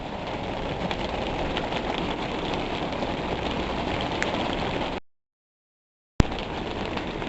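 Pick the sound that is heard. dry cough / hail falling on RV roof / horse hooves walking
hail falling on RV roof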